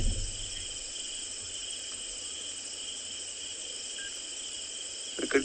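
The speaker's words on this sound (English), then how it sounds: "You can see all the insects as well flying about this evening in the riverbed." Insects buzz and chirr in a steady high drone over a riverbed at sunset on a safari, continuous and fairly faint, with a few soft knocks at the start and end.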